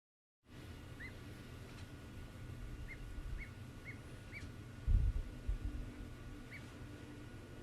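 Baby ducks peeping, several small high chirps spread across the clip, faint and somewhat distant over steady background noise with a soft thump near the middle.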